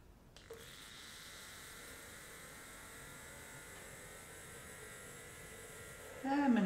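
An electric makeup brush spinner spins a brush dry with a steady, close mechanical whirring buzz that starts abruptly and holds evenly, ending with a louder rattling burst.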